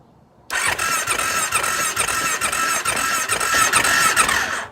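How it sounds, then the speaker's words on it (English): A Kawasaki KFX700 ATV engine with a suspected water pump problem cranks with a sudden loud start, then a steady, harsh churning roar with a squealing edge that continues close by for several seconds. "then I cranked the engine and it shot out a whole bunch of water"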